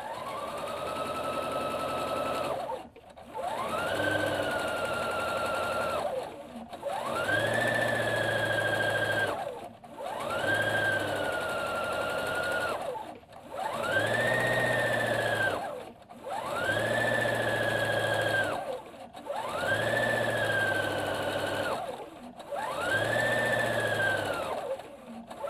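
A sewing machine stitches a jacket collar in a run of about eight even, droning bursts, each a few seconds long and separated by brief pauses, close and steady.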